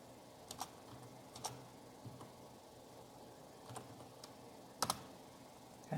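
Keys clack on a computer keyboard in short, quiet bursts of a few strokes each, separated by pauses, like entering a command in a terminal; no voices.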